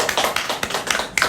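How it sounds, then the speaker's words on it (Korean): A small youth church group claps briefly, a quick run of overlapping claps from a few people nearby, close and fairly loud. "박수."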